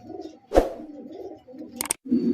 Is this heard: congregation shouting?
no